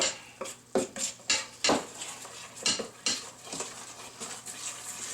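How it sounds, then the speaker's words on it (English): A spoon scrapes and clacks against a bowl while wet ingredients are stirred into cornmeal for crackling cornbread. The knocks come in an irregular rhythm, close and fairly loud, and no one speaks. "mix up all the wet ingredients right into the cornmeal"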